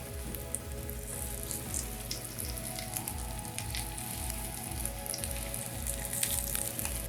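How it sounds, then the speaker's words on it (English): Potstickers fry in hot oil in a pan, giving a steady close crackling sizzle with fine popping spatter that runs continuously over a music bed, and nobody speaks. "Once you hear the sizzle"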